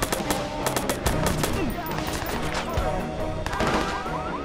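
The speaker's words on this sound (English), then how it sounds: "A little cover fire." Rapid gunfire in Watch Dogs during a cover-fire moment, dense bursts of automatic shots rattling continuously and loudly up close, with a voice briefly audible beneath the firing.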